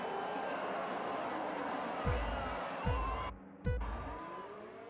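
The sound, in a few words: race cars starting the Brazilian GP in a racing video game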